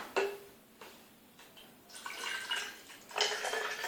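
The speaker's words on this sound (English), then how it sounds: "I'm going to pour it in." Fake milk being poured into a bottle holding a toothpick, a faint trickling pour with a few small drips and clicks, building into a brighter splashing stream near the end.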